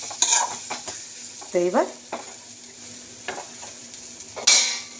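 Spice paste with fully melted tomato is stirred and fried in a pan, giving close scraping strokes and soft sizzling with a couple of louder stirring bursts, and a voice briefly speaks.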